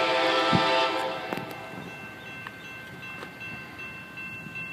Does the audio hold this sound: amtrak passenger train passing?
yes